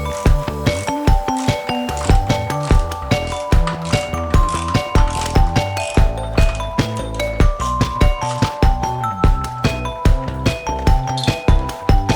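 Rapid, steady ratchet clicking close up as a ratchet on a swivel works the lower manifold nuts of a 1968 BMW 2002. Loud repeated pawl ticks continue without break and no one speaks.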